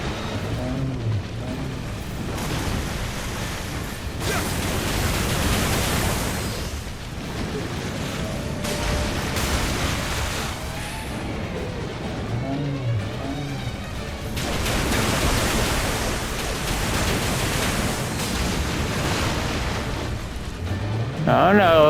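Heavy water splashes and surging waves crash during the Umi-Bozu boss fight in the video game Nioh, loud rolling bursts repeating over about twenty seconds, with game noise throughout.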